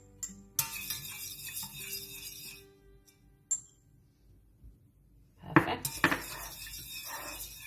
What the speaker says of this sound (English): Just stir it just a little bit, you guys, just to make sure that it's well incorporated